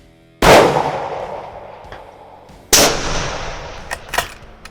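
Two loud, sharp rifle shots fire a 180 grain Berger bullet at a Texas whitetail 500 yards away, each crack decaying into a long rolling echo across open country, with faint distant impacts afterward.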